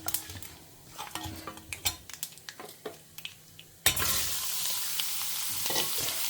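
Thinly sliced vegetables sauté in oil with chilli flakes in a pan, first with scattered clinks and scrapes of stirring, then a sudden loud, steady hissing sizzle as the food hits the hot oil, no voices.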